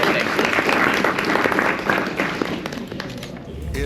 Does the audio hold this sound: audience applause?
yes